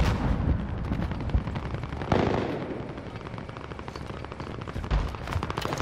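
Gunfire in the video game Warzone Zombies: loud, continuous rattling bursts of automatic shots with occasional heavier booms, dense and close throughout.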